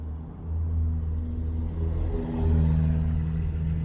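A car creeps through congested traffic, its engine giving a steady low rumble that swells slightly near the end, heard from inside the vehicle with no talking.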